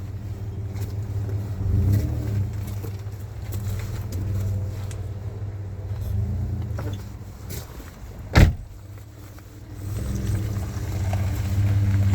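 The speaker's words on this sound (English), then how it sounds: "Oh, I didn't park right. I gotta back up some more." A car backs up slowly to re-park at a shore fishing spot, with a steady low engine hum throughout, a brief louder thump or door-like sound partway through, and the drone carrying on afterward.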